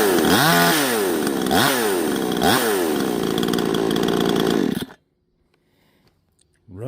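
A 58 cc Tictok chainsaw runs loud and close for about five seconds, its engine revving up and down in a few surges while cutting. It cuts off abruptly, leaving near silence before a faint sound returns at the end.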